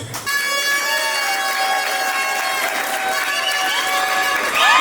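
Wedding guests at a Congolese customary ceremony break into sustained cheering and celebratory shouts, a dense crowd roar with high ululation-like tones, loud and continuous throughout.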